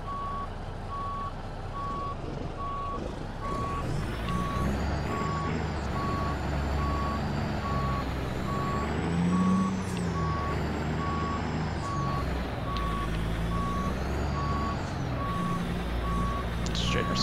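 A truck in American Truck Simulator reverses, its backup alarm sending out a steady run of evenly spaced beeps over a low engine rumble for the whole stretch.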